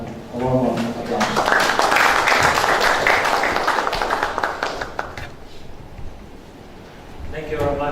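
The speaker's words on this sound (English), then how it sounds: "please join me in giving his a warm applause" An audience at a public lecture applauds to welcome a speaker, with steady clapping that swells for about five seconds between brief stretches of talk at the start and end.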